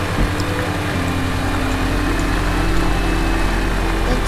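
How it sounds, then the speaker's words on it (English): A self-charging tractor's engine in the game Astroneer drones steadily and loudly, a dense, rumbling idle-like hum that holds even throughout with no pauses or voices. "A self-charging tractor with lots of storage too."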